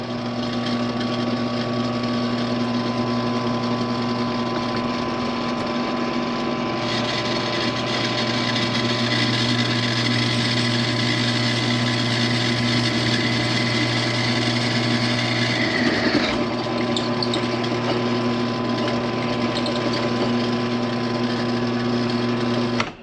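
A 10-inch five-speed Bauer drill press runs steadily while drilling a 3/8-inch hole with Tap Magic cutting fluid, its motor hum and whine continuous and close, a brief scrape of the bit breaking through near the end.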